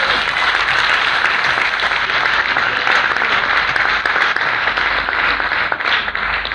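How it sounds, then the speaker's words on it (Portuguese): Sustained congregational applause fills a church during a night vigil service, a thick, continuous wash of many hands clapping at a steady, fairly loud level with no pause. "Aplauda no Senhor Jesus."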